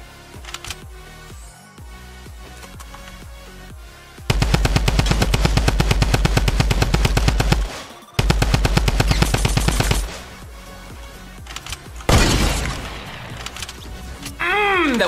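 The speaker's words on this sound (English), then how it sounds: "That was such a clean shot!" Rapid automatic gunfire in the Fortnite video game, loud dense bursts of shots in two long volleys with a brief gap, game sounds and faint talk around them.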